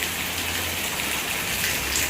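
Heavy rain falls in a dense, continuous hiss, a close and steady wash of drops on the surfaces outside a home.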